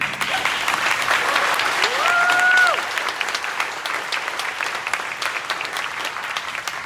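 Sustained applause from a crowd at a Delaware voting rights legislation event, steady clapping with scattered cheers, gradually tapering slightly toward the end.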